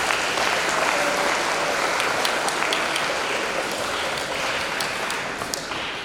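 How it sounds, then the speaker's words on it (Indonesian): Dense, steady applause from an audience at an Islamic sermon gathering, loud and continuous for several seconds before easing slightly at the end, with no voices over it. "Tepuk tangan."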